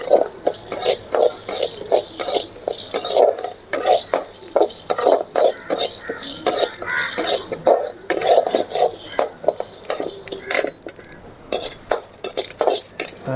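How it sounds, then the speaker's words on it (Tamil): Fennel seeds, cumin, pepper and salt dry-roast in a pan for a prawn curry while a spoon scrapes and clinks against the metal in quick repeated strokes. The stirring is loud and close, with a faint sizzle and some brief talk. "சோம்பு சீரகம் இது எல்லாத்தையும் போட்டு நைஸாக வறுத்துக்கணும்"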